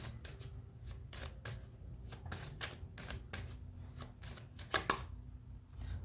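Tarot cards are shuffled by hand in quick, close, crisp riffles and flicks, a rapid irregular run of papery taps with no talking.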